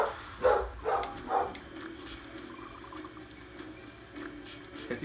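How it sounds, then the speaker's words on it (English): A dog barks in the background, three quick barks close together near the start, then quieter yips and whimpers later, fairly faint and distant. "If you hear a dog barking in the background"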